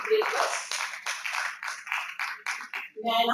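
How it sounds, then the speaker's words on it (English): An audience at a felicitation and investiture ceremony for toppers claps in a steady run of moderate bursts that fades near the end. "Let's applaud their achievement and celebrate this moment."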